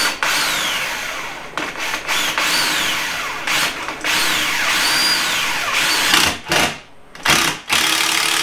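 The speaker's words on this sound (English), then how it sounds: "I'm going to get these screws in." A power drill drives screws into a DIY wooden shop storage cart: several loud, close whirring runs whose pitch climbs as each screw seats, separated by short pauses.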